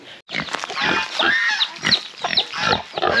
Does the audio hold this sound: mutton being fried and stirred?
no